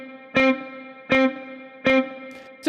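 An electric guitar played through effects runs a practice exercise, sounding repeated plucked notes with distortion and chorus at a steady pace, each attack ringing briefly before the next.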